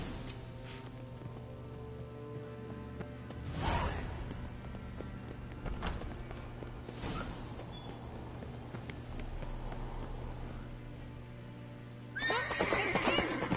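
A horse whinnies loudly amid a busy ambient bed in The Witcher 3 video game, with hoof clatter and scattered rustling sounds around it.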